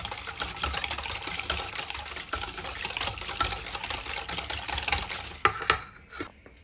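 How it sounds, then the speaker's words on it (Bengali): Eggs being lightly beaten in a bowl, a quick, steady run of soft clicking and swishing whisk strokes close by, ending with a couple of sharper taps as the beating stops. "ডিমটাকে আমি কিছুই দিব না জাস্ট এভাবে একটু হালকা করে ফেটে নিব"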